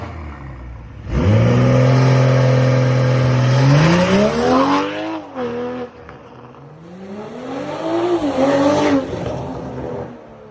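A 2021 BMW M340i with a VRSF high-flow downpipe starts and idles with a loud, deep exhaust drone, then revs up twice at low RPM, each rise and fall sounding close and full, with no speech.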